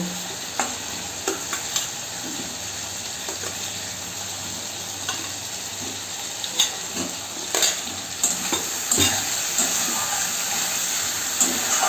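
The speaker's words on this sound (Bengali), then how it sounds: "যে আলুগুলো আমি ভেজে রেখেছিলাম সেই আলুগুলোকে আমি আগে মশলার সঙ্গে দিয়ে কষিয়ে নেব" Fried potatoes sautéed with spice masala in a pan for a masoor dal curry, a steady frying sizzle with scattered scraping stirs and clicks of a spoon against the pan, close and continuous without talk.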